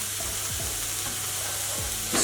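Fish enchilada filling sautéing in an oiled pan gives a steady, close frying sizzle with a few soft stirring scrapes. A louder burst of sizzle comes right at the end.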